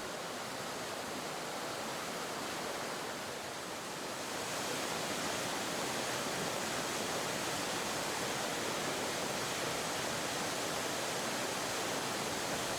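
A small six-meter waterfall at Emerald Pool at the base of Morne Trois Pitons in Dominica pours into a swimming basin, a dense, continuous rushing roar heard close and alone, swelling slightly louder partway through.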